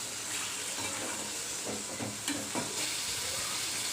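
Chicken pieces go into a pan of sautéed onions for a Tamil green chicken dish, raising a steady close sizzle with occasional stirring scrapes and crackles.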